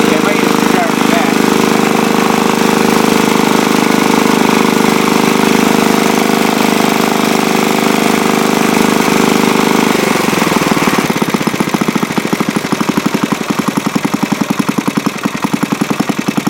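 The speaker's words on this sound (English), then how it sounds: "See how slow you can get the idle." A restored antique Briggs small engine, once seized, idles close by with a steady mechanical drone that slows partway through into a loose, distinct chugging rhythm of individual firing pulses.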